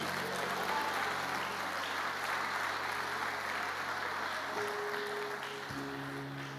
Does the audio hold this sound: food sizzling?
no